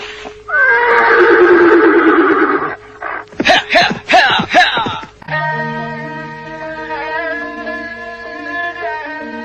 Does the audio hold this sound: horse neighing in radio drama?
yes